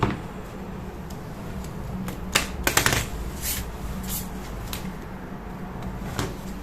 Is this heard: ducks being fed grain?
no